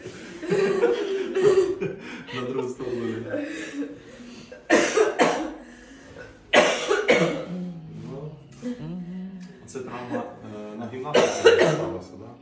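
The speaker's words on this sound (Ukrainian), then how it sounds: "Давай, давай, кашляй, кашляй." A person coughs hard several times in bursts, bringing up phlegm from the lungs, mixed with breathy chuckles and someone talking nearby.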